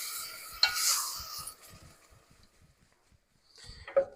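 A spoon stirs marinara sauce and spices together in a pan over low heat, giving a short burst of wet scraping and sloshing, then a run of soft, faint clicks, and finally another brief stir near the end.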